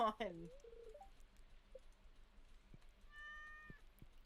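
Short cat meows from the Stardew Valley video game, faint and thin, with a quick cluster at the start and another tonal cry later, set against quiet game sounds and soft clicks.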